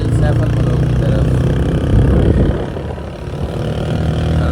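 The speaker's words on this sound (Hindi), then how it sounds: "चलिए अपनी बाइक पर झील सैफल मलोक की तरफ।" A motorbike ridden toward a mountain lake in northern Pakistan runs with a steady, loud low engine rumble and wind noise throughout, dipping slightly midway, with speech over it.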